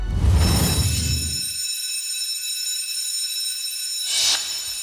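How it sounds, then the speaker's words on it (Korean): A fire alarm rings with a continuous, shrill electronic tone that holds steady throughout, with brief louder bursts of noise near the start and end. "만약 내가 자고 있을 때 화재 경보가 울리면"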